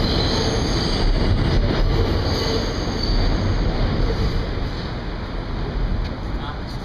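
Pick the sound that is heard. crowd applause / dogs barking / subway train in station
subway train in station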